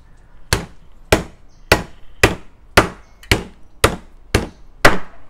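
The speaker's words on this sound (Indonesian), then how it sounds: "Dia akan tunjuk cara-cara meniang ikan jenahak ni." A chef chops a jenahak fish with heavy, evenly spaced strikes, about nine sharp chops close by, each cutting through flesh and bone onto a board, with no talking.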